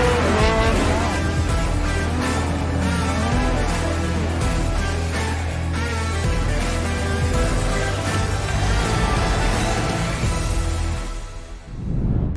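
An Xpeng X9 car climbing uphill, its loud steady drive and road noise filling the cabin continuously before briefly dipping near the end.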